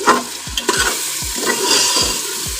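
A spoon scrapes rhythmically around a pan as spices with dried coriander sizzle and fry underneath, about six steady strokes at close range, while making daal mash.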